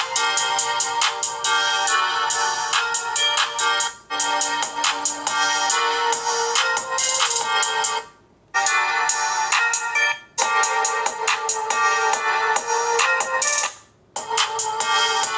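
A bright, repeating electronic ringtone melody plays loudly through a small Samsung Galaxy phone speaker, looping with brief pauses between phrases.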